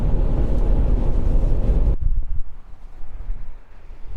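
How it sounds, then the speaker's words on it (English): Strong wind at Abraham Lake buffeting the microphone with a loud, continuous roar that drops abruptly halfway through to a lighter, gusty rush. "Back at Abraham Lake, and the wind is not disappointing us."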